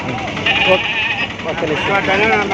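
Goats bleat repeatedly in a crowded weekly livestock market in Gudur, Andhra Pradesh. Wavering calls overlap and sound close and loud, while people talk continuously over a busy crowd murmur.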